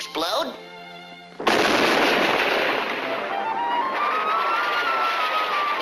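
A Looney Tunes cartoon explosion of talcum powder bursts in as a sudden loud blast that rolls into a long, sustained roar with a rising whine, following a brief tonal cartoon sound.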